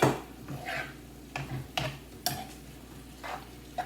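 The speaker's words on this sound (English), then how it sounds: "Just mix it in, coat it all in with the sauce" Ramen noodles being stirred to coat them in sauce, with a handful of light clinks and scrapes of a utensil against the pot, spaced irregularly over a quiet background.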